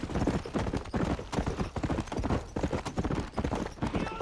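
Several horses gallop hard in a Red Dead Redemption race, a dense, steady clip-clop of hooves filling the whole stretch, close and loud, with a faint whinny now and then.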